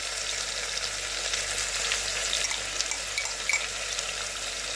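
Onions frying in oil with ginger garlic paste for an instant chicken curry, a steady bright sizzle and crackle running throughout with a few sharper pops, close and fairly quiet, with no voices.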